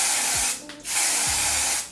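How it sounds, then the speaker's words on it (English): Tinted lace spray in medium brown hisses from an aerosol can onto a wig cap in two long, loud close bursts with a short pause between them, no talking. "I'm gonna take my even tinted lace spray in medium brown and I'm gonna spray that"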